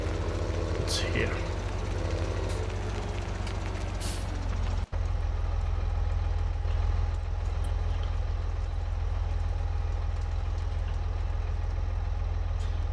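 A tractor engine idles in Farming Simulator 17 with a steady low diesel rumble throughout, one brief break, and a higher whine in the first seconds.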